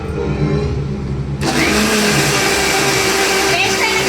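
A kitchen mixer grinder switches on abruptly partway through and runs with a loud, steady motor whine to the end, close by.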